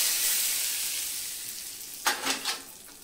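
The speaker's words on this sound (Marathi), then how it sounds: "ही छान सुरसुरीत फोडणी आपण या चटणीवरती टाकून घ्यायची" A hot tempering of mustard seeds and curry leaves hits coconut chutney, with a soft steady hiss followed by a few sharp sizzling bursts near the end, close and with no voices.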